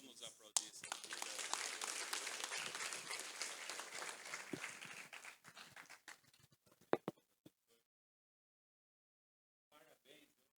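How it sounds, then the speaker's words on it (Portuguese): A church congregation breaks into applause, loud scattered clapping for several seconds that thins into a few isolated claps and falls silent, with voices speaking over and after it. "Vamos aplaudir."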